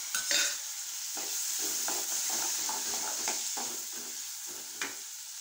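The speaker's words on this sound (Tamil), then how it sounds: "நல்லா வதக்கட்டும், எண்ணெயிலே வதங்கட்டும்" Steady sizzling of onions and marinated anchovies frying in hot oil for a fish gravy, with occasional scrapes and clinks of a spoon stirring the pan, close up and continuous.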